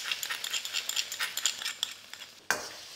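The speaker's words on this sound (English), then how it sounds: "Just cook that oyster sauce around the mushrooms for 30 seconds or so." Mushrooms sizzle in a pan with a couple of tablespoons of oyster sauce, a soft crackling fry broken by the scrape and clatter of a utensil stirring, with a sharper knock near the end.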